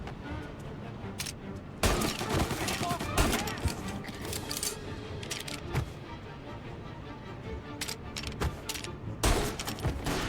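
Gunfire in Mafia: Definitive Edition, with several sharp shots and bursts spread across a busy gameplay mix and loud cracks at intervals, along with other game sounds.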